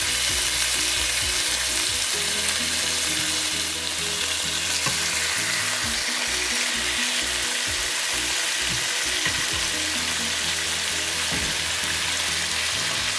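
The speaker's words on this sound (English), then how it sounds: "So we're going to allow it to fry on medium heat." Salmon fries in a pan over medium heat with a dense, steady sizzle and crackle. The sound is close and continuous throughout, with irregular clicks and scraping underneath.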